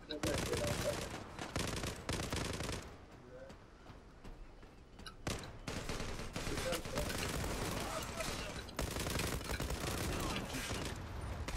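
Automatic gunfire in the Zula online shooter game comes in dense, sustained bursts with short lulls, loud and close, while a player talks over the shooting.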